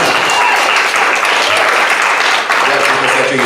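Audience applause at a Santa Cruz town hall welcoming a speaker, dense steady clapping filling the room throughout at close, loud level with no pauses.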